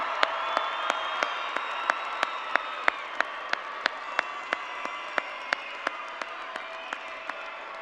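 A graduation commencement audience applauds the graduates with steady, even clapping that fills a large hall, and sharp individual claps stand out in a regular rhythm.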